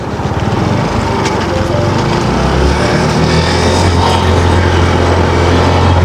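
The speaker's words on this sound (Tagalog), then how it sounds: "Kaso lang, hirapan lang ang motor." A small motorcycle engine drones loudly and continuously close by, its pitch dropping into a lower, labored rumble as it strains.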